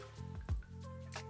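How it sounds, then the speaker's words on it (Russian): Water poured into a Cooking Chef XL mixing bowl on kitchen scales gives a brief splashing squish and a few drips, fairly soft and close, with no talk over it. "Мы сейчас добавим эту воду."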